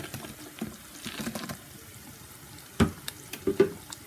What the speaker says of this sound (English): So in this we'll be adding the pakora.